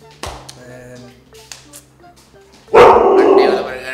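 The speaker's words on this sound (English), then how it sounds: "that's my dog saying happy new year to everyone" A pet dog barks loudly and close at a New Year's greeting, a sharp sustained outburst near the end after a few scattered taps and a brief spoken word.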